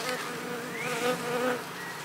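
Honey bees hum and buzz inside a hive box, forming a close, continuous drone of many insects with no other sounds.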